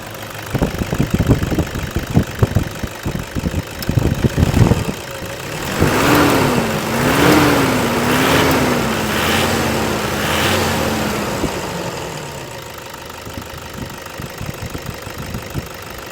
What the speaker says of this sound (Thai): นี่ก็คือเสียงเครื่องยนต์คุณผู้ชมครับ เสียงเครื่องดังเดินปกติไม่มีสั่นคอใดๆ